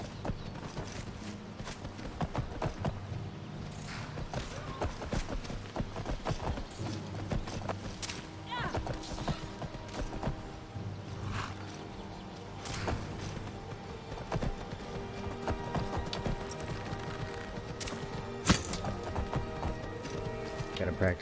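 Horse hooves clip-clopping at a run in the Skyrim video game, a steady rhythmic beat in a wooded area, mixed with game music and effects while a person talks over it throughout.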